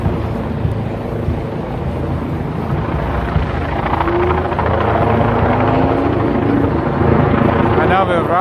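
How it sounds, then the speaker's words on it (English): A helicopter flies directly overhead above a crowded Manhattan street festival on 2nd Avenue, its loud continuous rotor thrum and engine whine steady throughout, with people talking underneath. "now we're right below the helicopter"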